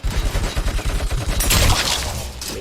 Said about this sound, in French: J'ai moins de recul sur la mitrailleuse lourde.